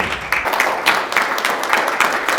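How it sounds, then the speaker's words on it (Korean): Audience applause welcoming a science and ICT minister at a university business forum, a brisk, close roomful of clapping with distinct sharp claps standing out. "큰 박수로 환영해 주십니다"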